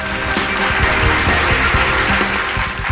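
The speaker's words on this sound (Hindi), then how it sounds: "तालियां दोस्तों।" A crowd claps steadily and loudly, dense overlapping applause with no voices standing out, continuing throughout.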